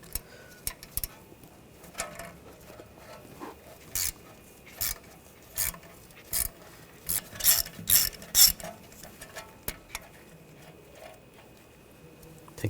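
Ratchet wrench with a 5mm hex socket backing out an ABS wheel speed sensor screw on a 2007-2013 BMW X5 rear hub, giving a series of sharp, close metallic clicks in irregular bursts with quiet gaps between.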